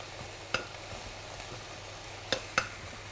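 Leeks and rhubarb frying in a pan give a steady, soft sizzle, broken by a few sharp utensil clicks as they are stirred. The sound is close and heard alone, with no voices.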